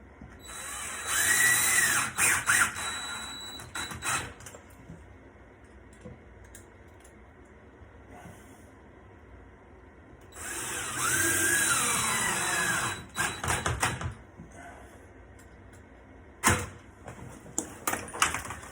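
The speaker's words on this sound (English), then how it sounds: "I've got some stainless steel screws I'm going to use. I'm just going to start locking that wood into place." Power drill driving stainless steel screws into wood framing during a ceramic tile repair after leak damage, in two sustained whirring bursts separated by a quiet pause, followed by short clicks and brief drill spurts.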